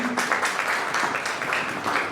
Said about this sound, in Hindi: अब मैं निवेदन करूंगा कि आप सब भी उनका तालियों से स्वागत करें